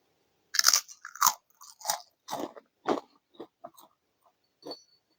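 Crispy pork rinds eaten with fermented-fish rice noodle salad, heard as close, loud crunchy bites and chewing in irregular bursts with short quiet gaps between them.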